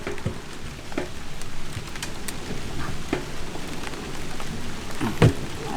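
Rain falls steadily and close by onto surfaces, a dense patter with occasional sharper drops and a brief louder knock near the end.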